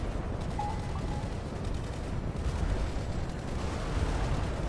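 Bombs exploding in a Korean War strategy video game, a continuous low rumble of blasts that stays fairly loud throughout with no pauses.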